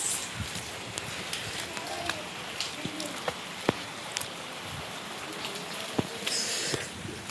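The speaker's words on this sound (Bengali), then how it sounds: "দেখতে পাচ্ছেন কী হারে বৃষ্টি হচ্ছে, বৃষ্টি হয়েই যাচ্ছে।" Heavy rain pours down steadily as a constant wash of hiss, broken by scattered louder drops and splashes, at a fairly low level.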